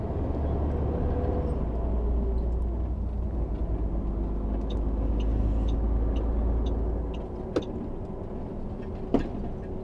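Car driving on a road near Carambeí and Ponta Grossa, Paraná, speeding up and rolling over small speed bumps, with a steady close engine and road rumble that drops in level near the end and two brief knocks.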